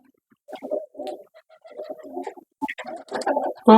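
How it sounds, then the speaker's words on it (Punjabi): A flock of about forty to fifty flying pigeons gathered at a loft, giving soft cooing and burbling calls in short bursts that grow louder and busier toward the end, with no one talking. "40 50 ਕਬੂਤਰ ਆਏ ਹੋਏ ਹੈਗੇ"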